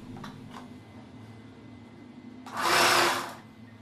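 A sewing machine stitching the folded hem of a simple blouse, a single loud burst of rapid motor whir lasting about a second, with quieter handling noises before it.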